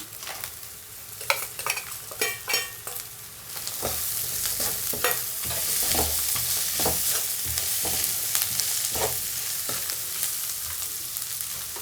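Dried prawns are added to a hot pan with tomato and stirred, starting with a series of sharp spatula scrapes and clacks that give way to a loud, steady sizzle with intermittent stirring knocks, close up and without speech.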